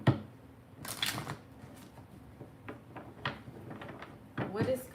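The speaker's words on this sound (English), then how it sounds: "These cards don't even want to shuffle." A deck of tarot cards is shuffled in quick, soft papery riffles and flicks, several short bursts close by, while someone talks over them.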